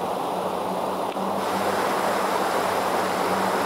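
Water of a clear creek runs steadily over rocks in a broad, even rush, close by and moderately loud, with no voices.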